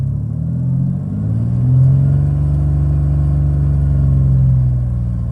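Steady low engine drone inside the cab of a Chevy S10 ZR2 fitted with a DIY exhaust, a fairly quiet rumble that swells slightly as if lightly revved, with no talking.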